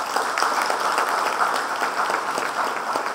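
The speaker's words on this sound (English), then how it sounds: "Kindly give him a big applause." A dense, steady round of applause from the audience at an endowment lecture, continuous and fairly close throughout.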